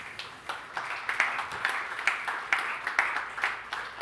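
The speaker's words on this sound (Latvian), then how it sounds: "Sagaidām ar aplausiem!" Light audience applause welcoming a weather-station engineer to the stage, a smaller group clapping with distinct, rhythmic pulses about twice a second, moderately near.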